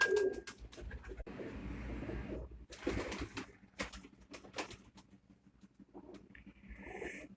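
Teddy breed pigeons on a rooftop coo softly from close by, with scattered rustles, wing flutters and bumps around them and no voices.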